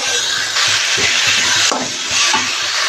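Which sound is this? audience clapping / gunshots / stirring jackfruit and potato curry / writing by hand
stirring jackfruit and potato curry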